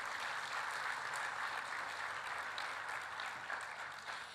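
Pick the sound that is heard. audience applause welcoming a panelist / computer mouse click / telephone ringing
audience applause welcoming a panelist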